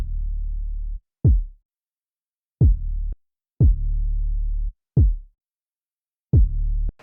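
A boom bap beat's bass line played dry in Ableton with no saturator: deep, clean sub notes alternating with short punchy kick-like thumps in a loose, stop-start rhythm with brief silences, loud and alone.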